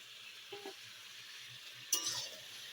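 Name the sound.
potatoes sautéing in chicken curry in pan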